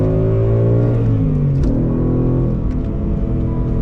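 A 2019 Ford Mustang GT with a manual gearbox and stock exhaust runs close by, its engine a steady muted rumble with a rising and falling rev tone throughout.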